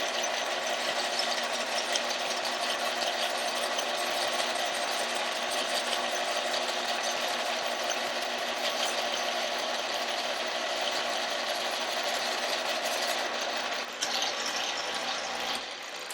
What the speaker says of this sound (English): I can hear it cutting, and it sounds like it's cutting all the way around